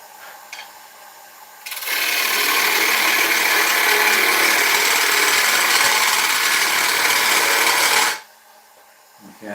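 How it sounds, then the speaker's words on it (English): Wood lathe tool cuts into a spinning ash bowl at 700 rpm, a steady loud hissing scrape lasting about six seconds, bracketed by quieter workshop noise and a faint hum before and after. "We can actually start hollowing the bowl out. We're still at 700 revs, okay?"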